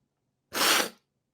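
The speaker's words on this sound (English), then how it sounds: "I'm gonna sneeze." A single sharp sneeze, close and fairly loud, bursting out alone against near silence.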